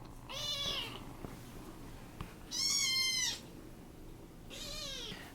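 Three clear, high-pitched kitten meows, spaced a second or so apart, close by over a quiet room.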